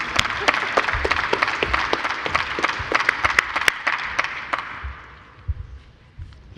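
An audience at a DATA Act Summit applauds as speaker Dan Chenok is welcomed. The sound is full crowd clapping with sharp individual claps on top, and it thins out and fades near the end.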